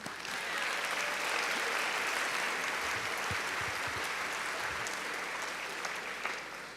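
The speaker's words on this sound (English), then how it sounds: "Give yourselves a round of applause." A crowd at the GOCA high school graduation of 2024 breaks into a full, sustained roar of applause, dense and continuous throughout, with some cheering in the background.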